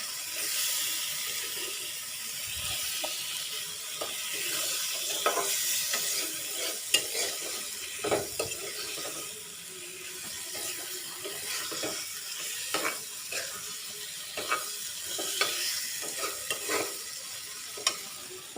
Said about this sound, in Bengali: এখন আমি মাছটাকে একটু ভালো করে কষে নেবো